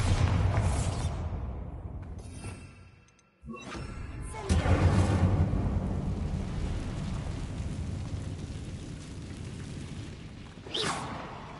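A video game Bombarda spell blasting a high ledge: a whooshing build, a short drop to near silence, then a loud booming explosion with crumbling debris that slowly fades.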